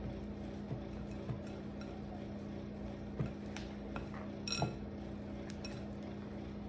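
Chocolate chip cookie batter being mixed by hand, with faint, sporadic clinks of a utensil against the bowl over a quiet, steady room hum.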